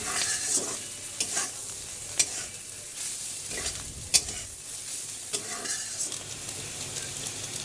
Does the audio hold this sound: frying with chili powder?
yes